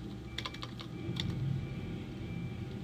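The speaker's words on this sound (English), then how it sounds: "now you can start typing" Computer keyboard typing, a quick run of light clicking keystrokes in small bursts over a low background hum, close and fairly quiet.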